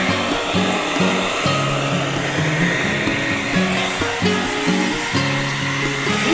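Hair dryer blowing steadily on a wet newborn baby llama, a constant close whooshing roar with faint shifting tones underneath, no talking.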